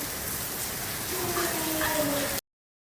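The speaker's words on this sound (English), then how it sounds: "the rain's lightened up a little bit, but this is what it looks like inside the Hurricane Beryl." Heavy rain during Hurricane Beryl, a dense steady hiss of downpour with faint tonal sounds passing in the background, close and continuous before cutting off abruptly.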